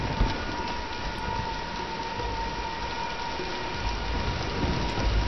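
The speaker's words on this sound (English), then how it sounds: "Let's wait out the storm." Heavy storm rain with rolling thunder in Tomb Raider Definitive Edition, a dense steady downpour with low rumbles swelling near the end, while a voice talks briefly over it.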